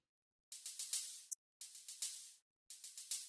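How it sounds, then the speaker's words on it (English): An occasional hi-hat from a beat remake: short bursts of bright, hissy hat hits in small clusters separated by gaps of silence, alone and soft. "And there's the occasional hat here."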